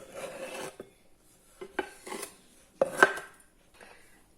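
Chopped roasted eggplant being scraped off a board into a bowl for baba ganoush, a few soft scrapes and light taps, quiet and intermittent.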